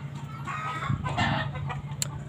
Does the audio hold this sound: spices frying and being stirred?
no